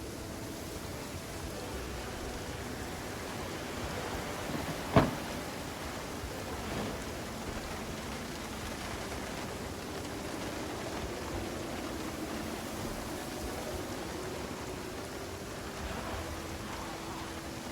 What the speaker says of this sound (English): Quite the storm brewing.